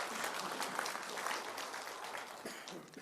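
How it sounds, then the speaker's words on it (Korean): An audience at a Korean CEO breakfast lecture on the economic outlook applauds, dense clapping from many hands that holds steady for a few seconds before tapering off slightly at the end. "박수 한번 또 크게 부탁드립니다"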